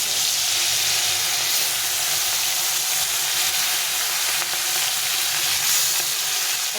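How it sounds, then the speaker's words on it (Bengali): Fresh fish frying in hot oil in a pan, a steady loud crackling sizzle throughout, with no voices. "আমি তেলে ভেজে নিচ্ছি।"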